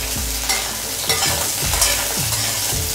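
A slit green chilli frying in hot oil for a chicken curry with raw papaya and potato, a close steady sizzle with a few dull scraping strokes of a spatula across the pan, no talking.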